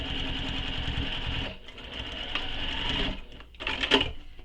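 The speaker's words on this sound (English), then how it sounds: "So just sewing up the sides of the pocket, not the bottom edge." Sewing machine stitching up the sides of a fabric bag pocket, with double-sided tape holding the pocket in place. The motor runs close and steady in two bursts with a brief pause between them.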